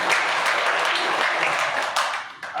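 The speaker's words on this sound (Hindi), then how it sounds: "इनके लिए जोरदार ताली बजानी चाहिए" An audience at a BJP social justice week event in Sitamarhi, Bihar applauds the seated community representatives: dense, sustained clapping from a crowd, fairly loud and steady, tapering slightly at the end.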